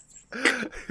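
A single short cough or throat-clear from a person after smoking, close and fairly loud, standing alone without talk.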